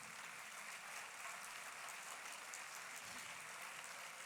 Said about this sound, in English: a big round of applause for everything y'all have achieved